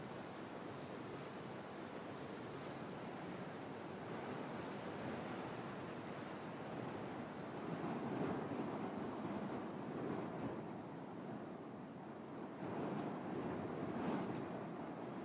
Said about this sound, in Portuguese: O vento joga a alga na espuma e a areia que voa provoca formas estranhas na rocha